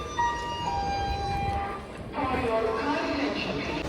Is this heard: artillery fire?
no